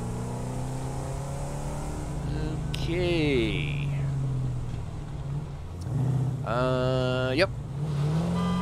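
A car in the factory-building video game Satisfactory drives along with a steady engine hum throughout, rising in two brief revving sweeps, while someone speaks briefly over it.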